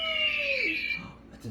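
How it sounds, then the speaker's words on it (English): An eagle call from a handheld animal sound toy: a single loud, shrill screech that slides downward in pitch and fades within a second or so. "That's an eagle."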